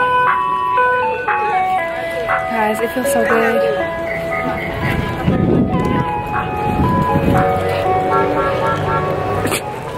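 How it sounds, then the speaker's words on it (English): Ice cream truck parked on a college campus plays its tinkly, looping jingle, loud and close, while people talk and laugh over it. "All right, so we got an ice cream truck on campus,"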